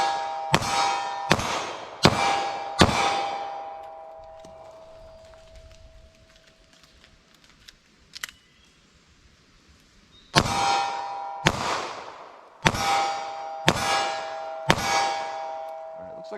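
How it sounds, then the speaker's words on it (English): Snub-nose revolver firing 9mm from a moon clip: a string of sharp, loud reports in quick succession, a quieter pause with a faint ring during the reload, then another rapid string of shots. "Fire off 5 shots, do a reload with the moon clip, fire off 5 more."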